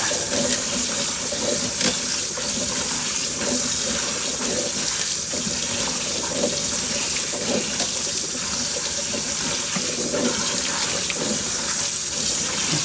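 Kitchen tap water runs steadily onto shellie green beans being rinsed in a sink, a constant broad splashing rush with small shifting spatters as the beans are handled, close and without talk.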